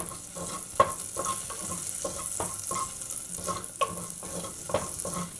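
Steady sizzling of mustard seeds and green chilies frying in oil, with a spoon stirring and scraping the pan and occasional sharp taps against the metal.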